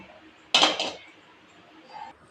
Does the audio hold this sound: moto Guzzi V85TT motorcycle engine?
no